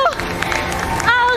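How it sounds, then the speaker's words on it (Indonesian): Crowd applause and cheering at a Mobile Legends esports playoff match for team Alter Ego, a brief burst of clapping and crowd noise with a caster's voice speaking over it. "Tepuk tangan untuk Alter Ego."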